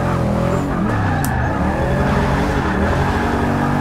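A VL Commodore on drag tires drifts in Forza 6, its loud continuous engine roar and tire squeal running unbroken across the clip with no talk over it.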